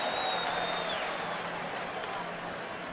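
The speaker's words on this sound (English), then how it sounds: "Think that was a sarcastic cheer coming out of the crowd?" A baseball stadium crowd cheers and applauds in a broad, sustained wash of noise that slowly fades over a few seconds, heard from a distance with no talk over it.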